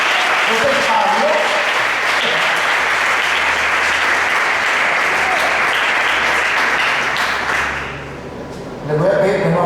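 A church congregation breaks into loud, dense applause that carries on for about eight seconds before dying away abruptly. A voice picks up again right at the end.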